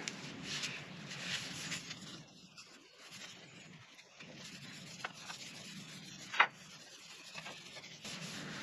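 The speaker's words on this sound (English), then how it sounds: "Try and rub it really thick into all the little inseams and joints" Varnish being rubbed by hand onto a bamboo cane push pole for a flats skiff, quiet continuous brushing and rubbing strokes up close, with a couple of small sharp taps.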